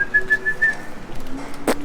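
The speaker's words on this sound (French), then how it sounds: "je fais le petit sifflement là" A person whistling softly to urge dairy cows toward milking, a few short repeated pitched whistles followed by a longer low tone and a brief sharp noise.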